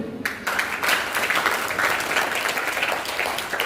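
Applause from a school audience at an elocution competition after a student's speech, a dense, even wash of many hands clapping at once, steady and fairly loud throughout.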